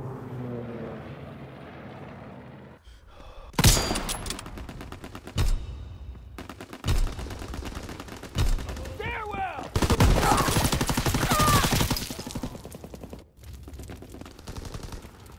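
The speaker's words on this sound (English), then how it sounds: "Call for a strafing run!" Fighter aircraft strafing run in a World War II-era shooter video game: loud bursts of rapid gunfire and impacts arrive in several separate waves, then a longer sustained barrage, against a quieter ambient start.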